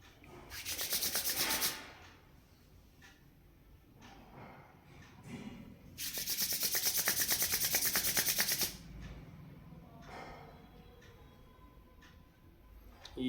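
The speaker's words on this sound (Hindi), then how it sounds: "आप हथेलियों को ऐसे रब करके ऐसे गर्माहट देनी है इनको।" Palms rubbed briskly together to warm them: two loud, close bursts of dry rasping friction, about two and three seconds long, separated by quieter pauses, with no talking.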